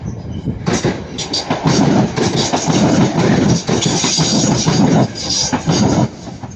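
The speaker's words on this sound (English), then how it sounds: "Okay, passenger, but now it's a Northern Class 323." A Northern Class 323 electric passenger train passes close by at Ardwick, giving a loud rolling rumble with repeated clattering wheel beats over several seconds, with no talk over it.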